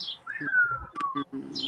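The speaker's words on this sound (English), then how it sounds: "I hear the birds chirping." Birds outside chirping and cooing, a sliding whistled call and short tweets mixed with soft low coos, while a person briefly murmurs in between.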